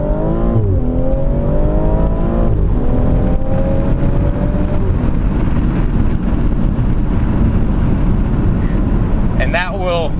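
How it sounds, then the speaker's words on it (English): A 2019 BMW X3 M40i launching hard with launch control, its engine climbing through rising gears from close inside the cabin, loud and continuous, with a voice speaking over it. "So it gets up pretty quickly from that launch control."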